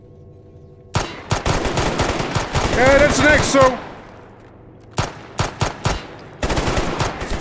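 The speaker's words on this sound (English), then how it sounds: "Because they keep hearing the gunshots here in the tunnels." Gunfire echoes through tunnels in the video game STALKER, loud bursts of rapid automatic shots in several volleys, with a voice speaking briefly between them.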